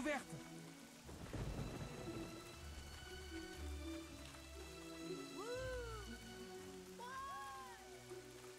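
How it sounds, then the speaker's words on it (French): Stormy weather in Fable with steady rain and rumbling thunder over a game village, a strong roll near the start, rain constant throughout, and a few brief higher animal-like cries later; a voice speaks faintly at times. "À chaque fois que tu viens dans le village, il y a toujours de l'orage."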